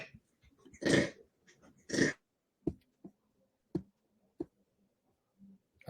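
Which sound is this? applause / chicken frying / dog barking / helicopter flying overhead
dog barking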